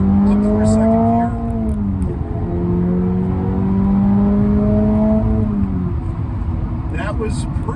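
A Toyota GR86 accelerating up through second gear, engine note rising steadily and then dropping with the shift before climbing again, heard from inside the car.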